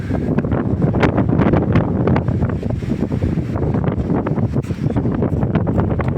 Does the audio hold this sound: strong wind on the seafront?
yes